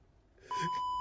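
A steady censor bleep tone starts abruptly halfway through and holds loud to the end, cutting over a man's speech about rising costs.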